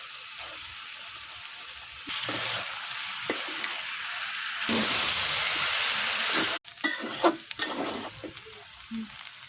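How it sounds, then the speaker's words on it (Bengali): Holland potatoes frying in a pan with chicken liver, a loud hiss that swells as food hits the oil, with stirring scrapes and clatter toward the end. "এখন আমি এর মধ্যে আলু ঢেলে দিব"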